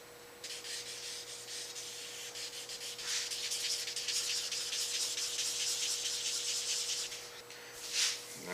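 Fine 2000 grit sandpaper rubs across a guitar's finish in steady, close strokes, a continuous soft scratchy hiss that swells midway and ends with a brief louder stroke.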